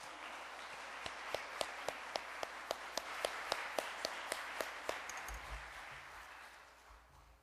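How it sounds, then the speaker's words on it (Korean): Faint applause comes from a church congregation welcoming a guest speaker, with distinct sharp claps at a steady pace that thin out and fade away. "박수 한번 크게 쳐주세요"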